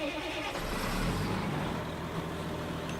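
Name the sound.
John Deere 7950 forage harvester V12 engine running, video game mod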